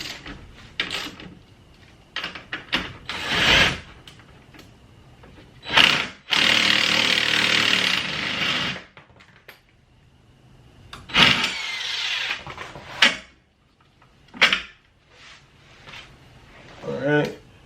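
Power tool, likely an impact wrench with a deep well 19 socket, removing bottom bolts on a Chrysler 300 during a lowering spring install: several short close bursts and one longer whir, separated by pauses with someone talking.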